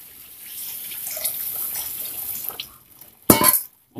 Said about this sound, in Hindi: पूरा रवा डूब गया, इतना पानी डालें,